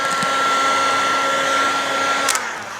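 A heat gun blows hot air onto a wrinkle in gloss black vinyl wrap on a Tesla Model 3 pillar, a steady, close whooshing hiss with a faint whine that holds almost unbroken.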